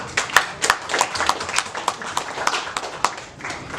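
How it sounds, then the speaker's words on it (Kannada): A small group claps for Narsi sir at a film event, distinct separate hand claps in a loose, uneven rhythm rather than a full roar of applause. "ಎಲ್ಲರೂ ದಯವಿಟ್ಟು ನರ್ಸಿ ಸರ್ಗೊಂದು ದೊಡ್ಡ ಚಪ್ಪಾಳೆ"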